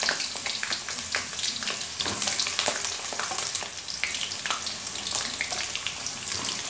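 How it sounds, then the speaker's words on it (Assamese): Potatoes for a chicken curry fry in hot oil, a close, busy crackle and sizzle with scattered sharp pops running steadily throughout and no talking. "আলুখিনি অকণমান ভাজি লওঁ"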